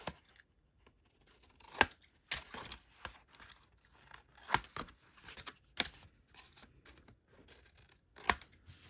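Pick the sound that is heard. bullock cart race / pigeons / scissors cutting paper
scissors cutting paper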